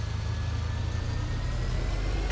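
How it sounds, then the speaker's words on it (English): A tractor engine idling nearby, a loud, steady low rumble with a fast, even throb and no other sounds over it. "let's jump into another tractor here"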